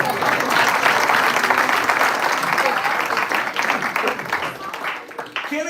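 A large audience at an evening celebration with drama and a speech by Sacinandana Swami bursts into loud, dense, sustained applause that thins slightly toward the end.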